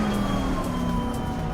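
Overheating brakes on a GT3 race car at Suzuka in Assetto Corsa Competizione give a sustained tonal screech over the engine's drone, steady and prominent for the whole moment.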